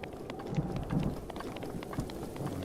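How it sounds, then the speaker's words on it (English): Steady rain pours and low rumbling thunder rolls through a thunderstorm in the video game Zelda: Breath of the Wild, with a continuous wash of droplets and deep booms swelling beneath it. "There we go, thunderstorms."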